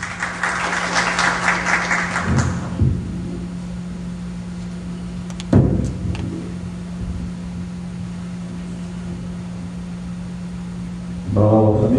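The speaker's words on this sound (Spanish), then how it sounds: "Damos un fuerte aplauso por favor para el doctor Alexander Urbano Menacho." A brief burst of audience applause at an evening legal lecture event, dying away after about two seconds into a quiet room with a low steady hum, a single thump, and a short rustle near the end.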